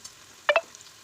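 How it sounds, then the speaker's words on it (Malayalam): Onion and carrot sautéing in a pan with salt: two quick stirring scrapes close together over a soft, faint sizzle, with no talking. "ഇനി കുറച്ച് ഉപ്പൂടി ഇട്ടിട്ട് നമുക്കിതൊന്ന് നന്നായിട്ട് വഴറ്റിയെടുക്കാം."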